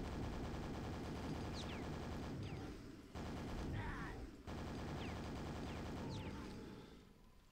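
Rapid shooter-game gunfire in a dark-fantasy setting against an ogre, berserker and shambler, loud dense bursts of shots with a brief break, over continuous game sound.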